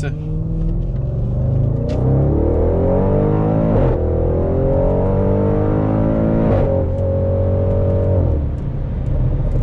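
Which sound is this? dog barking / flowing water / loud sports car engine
loud sports car engine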